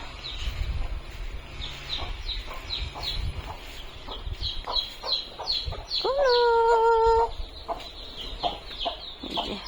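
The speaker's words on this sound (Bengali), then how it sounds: "মুরগি ফুটাইছে আটটা বাচ্চা বের করছে" A hen clucks softly while her eight newly hatched chicks peep in a quick, scattered stream, all close by, with a brief steady tonal hum partway through.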